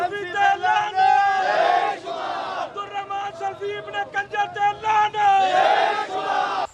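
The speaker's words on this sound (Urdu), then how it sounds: "ریلی کے شرکاء نے گستاخی کرنے والے عبدالرحمن سلفی کی پرزور مذمت کرتے ہوئے" Protesters at a street rally in Chunian chant slogans, loud massed voices shouting in rhythmic call-and-response bursts with short gaps between phrases.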